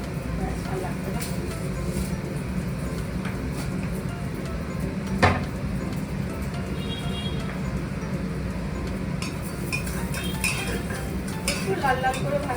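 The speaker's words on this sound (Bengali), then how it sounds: "এবারেই নেড়ে নেবো।" A pan of food being stirred during home cooking, soft scraping and occasional metal clinks of utensil against pan, under quiet talk and faint distant traffic.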